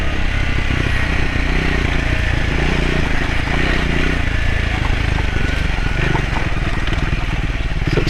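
A Triumph Scrambler 400 X motorcycle rides along a wet country road, its engine droning loudly and steadily throughout with wind and road noise, while a rider's voice speaks intermittently over it.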